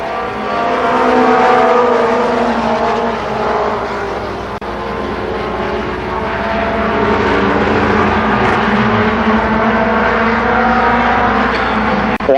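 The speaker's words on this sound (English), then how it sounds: "The winner of the first mini stock heat race, Jason Miller." Mini stock race cars roar around Columbus Motor Speedway during a 1992 fall heat race, their engines a loud, continuous, layered drone as the pack circulates, with no commentary over it.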